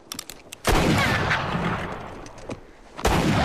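Gunfire from the Western film True Grit (2010) rings out on the prairie: a sharp shot, then a long echoing, rumbling stretch, with faint crackles and a final loud report near the end.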